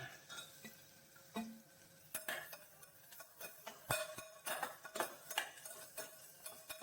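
Sliced onion, garlic, ginger and slit green chillies sautéing in a pan, a faint soft sizzle broken by repeated clinks and scrapes of a spoon stirring against the metal, louder toward the end.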